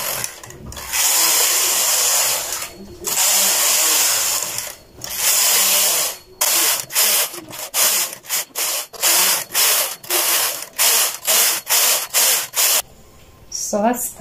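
A knitting machine carriage runs back and forth knitting rows of red yarn, giving loud rasping, whooshing sweeps that start long and become shorter and quicker, heard close with no talk.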